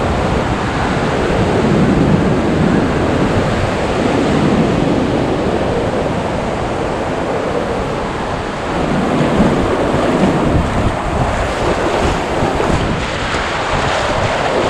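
Ocean surf on a windy beach at Areia Branca, Portugal, a continuous loud wash of breaking waves mixed with buffeting wind noise, with no talk.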